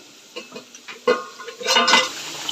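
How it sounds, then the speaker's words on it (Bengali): Boiled eggs cooking down in a spiced masala in a pan give soft, irregular stirring scrapes and a light sizzle that builds toward the end of the short stretch. "এই যে এখানে ডিম কষছে"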